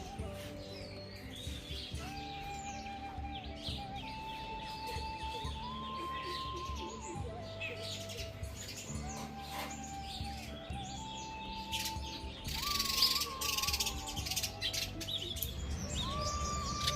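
Many birds chirp and tweet on a village farm at sunrise, a busy, continuous mix of near and distant calls over a steady tonal background, rising briefly louder near the end.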